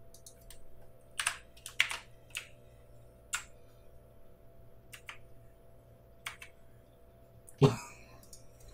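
Scattered, irregular keystrokes on a computer keyboard are heard during work in Houdini, with a low steady hum beneath and a louder thump near the end. No one speaks.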